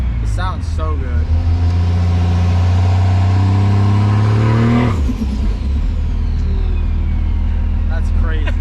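1000HP Cummins diesel drag truck with a full manual valve body, revving loud and close: the engine climbs steadily in pitch for several seconds, drops off sharply, then idles roughly, with voices talking over it.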